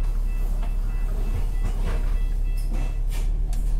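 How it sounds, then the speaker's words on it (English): A Hong Kong tram arriving at Happy Valley rumbles steadily close by, with faint metallic squeals and clatter over the low drone. "Here's the trams coming in to Happy Valley."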